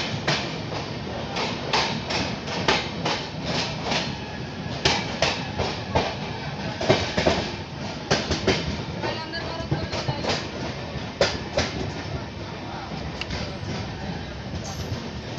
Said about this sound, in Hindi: तो मात्र 2 मिनट रुकने के बाद अपने ट्रेन का डिपार्चर हो चुका है बेगूसराय से।